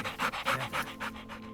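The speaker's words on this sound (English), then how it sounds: "The dog places a paw on the headmaster's knee and sticks his panting tongue out fiendishly." An old brown Labrador pants close by, its quick rhythmic breaths repeating about eight times in a steady run, with no voices present.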